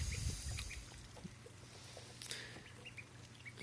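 Backyard ducks quack and chatter indoors on a rainy Sunday morning, a few scattered calls over a quiet room, close by and moderately loud, with no one speaking.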